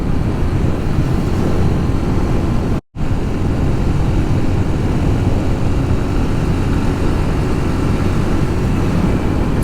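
A Suzuki DRZ400 dual sport motorcycle ridden on a commute, heard as a loud, steady, wind-buffeted engine roar that cuts out for a split second partway through.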